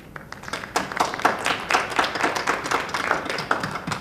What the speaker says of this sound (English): I thought that they deserve a round of applause.